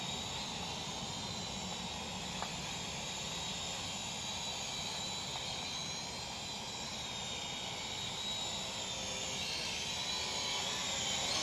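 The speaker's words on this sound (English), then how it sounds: "This is an awesome little drone." Small X5SW-V3 quadcopter drone with a 650mAh battery flying outdoors at night, a continuous high-pitched whirring buzz with broad hiss, steady and fairly loud throughout without talk.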